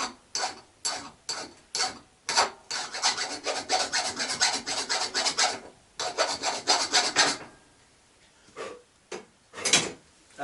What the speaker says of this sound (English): so we'll have to just quickly file that off